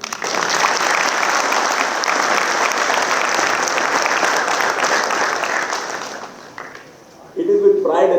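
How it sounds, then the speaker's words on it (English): A convocation audience applauds together, a thick, even wash of clapping lasting about six seconds before tapering off, followed by someone speaking into a microphone. "And may I also add that applause for the parents of the students."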